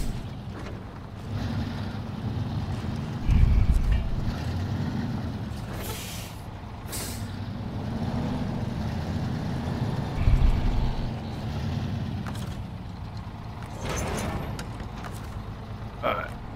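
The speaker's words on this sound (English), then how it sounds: "let me shut that engine off real quick" A truck engine idles steadily in the off-road driving game SnowRunner, a low continuous rumble with a couple of brief heavier bumps and faint higher clatter above it.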